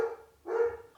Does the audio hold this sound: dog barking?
yes